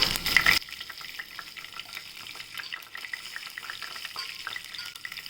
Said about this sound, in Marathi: आता आपण जिरं टाकूया जिरं तटतडले की आपण लसूण टाकूया